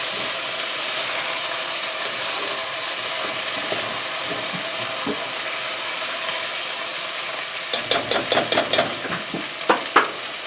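Szechuan chicken sizzles and fries steadily in a pan, with a spatula scraping and stirring in quick clustered strokes near the end.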